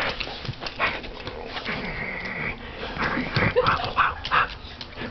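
A dog, nicknamed Cookie Monster, whimpers close by, with a thin drawn-out whine among snuffling and sniffing sounds and small shuffling noises, with no talking.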